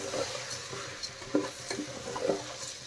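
Drained rice being stirred and fried with spices in a pan, a soft sizzle broken by several distinct scraping stirs of a utensil against the pan.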